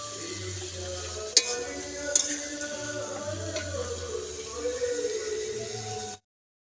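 Onions stirred as they fry in a pan at home, a soft continuous sizzle with a couple of sharp clinks of the spoon against the pan, ending abruptly.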